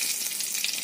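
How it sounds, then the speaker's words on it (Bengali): Two dried red chillies sizzling in hot oil in a pan for a Bengali mutton dish, giving a brief, even, close-up hiss and crackle with no voices. "দুটো দিয়ে দিলাম, শুকনো লঙ্কা"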